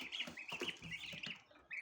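Newly hatched chicks cheep in a busy cluster of high, thin peeping calls, several birds overlapping in quick irregular bursts, close and fairly soft, with no talk.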